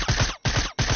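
SMG gunfire from a battle-royale shooter video game, rendered as rapid full-auto bursts broken by two short gaps, loud and close with no talking.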